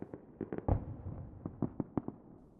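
Distant fireworks burst in a scattered series of muffled pops and booms, some clustered in quick succession, with a soft rumbling tail between them and no talking.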